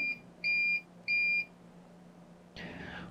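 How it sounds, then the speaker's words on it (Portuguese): A two-tone electronic beep from a SUMIG MX 403 welding machine sounds three times in a quick, even rhythm, then a brief burst of hiss follows after a short quiet gap. "Você ouvirá um som duplo de bip e PRO piscará no display da esquerda."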